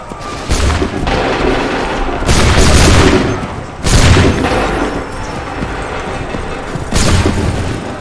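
Soldiers firing a musket volley in the video game Assassin's Creed 3, several loud booming bursts of massed shots a second or two apart, each trailing into rumbling echo, with no talking.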